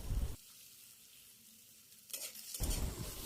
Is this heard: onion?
yes